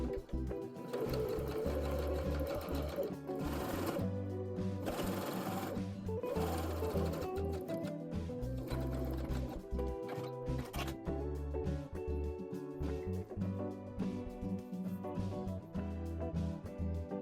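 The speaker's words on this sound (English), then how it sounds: "I understitched by folding the seam allowance towards the facing and stitching close to the seam" Sewing machine running a zigzag stitch to understitch the facing seam of a ruched dress, a steady loud mechanical whir with brief pauses and restarts throughout.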